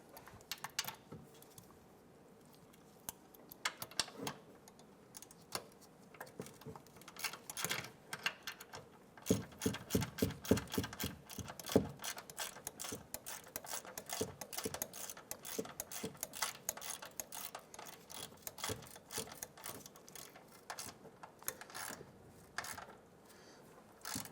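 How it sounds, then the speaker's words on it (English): Ratchet tightening a bolt on a 2015-2020 Cadillac Escalade while replacing a front ride leveling height sensor, with faint rapid clicking in quick runs and scattered metallic ticks, close up and quiet. "And then we'll go ahead and switch over to the ratchet."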